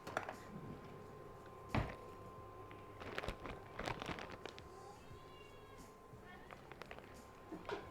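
An indoor cat meows and yowls a few times among household movement and footsteps, fairly faint, while people talk nearby.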